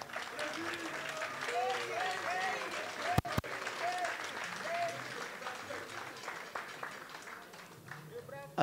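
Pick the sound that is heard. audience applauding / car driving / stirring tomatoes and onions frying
audience applauding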